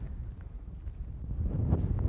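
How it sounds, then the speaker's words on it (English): Strong wind gusting across a high rocky hilltop buffets the microphone in a steady low rumble that swells louder toward the end. "it's extremely windy up here"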